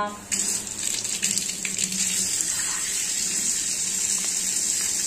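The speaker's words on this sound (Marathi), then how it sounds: "आणि आता हे ना सगळं धुवून घ्यायचं आहे." Chillies, ginger and potatoes are rinsed under a running kitchen tap, giving a steady close hiss of water with small splashes and shifts in the flow as the vegetables are handled.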